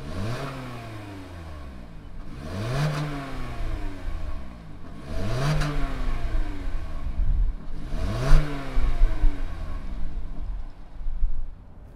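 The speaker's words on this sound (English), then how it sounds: "Let's go ahead and fire it up and see what does this Corolla sound like." A 2020 Toyota Corolla XSE engine is revved repeatedly, rising and falling in four or five even swells that climb in pitch and then settle back to idle, heard close and steady with no talking.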